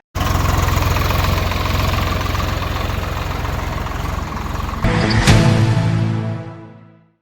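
A tractor engine runs in a farm field, chugging loudly and steadily up close, then revving briefly before cutting off and fading into silence.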